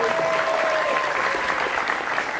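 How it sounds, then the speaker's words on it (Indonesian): Audience at a school Ramadan religious gathering applauds in a dense burst of clapping that stays steady and fairly loud throughout. "Tepuk tangan buat Pak Sobirin."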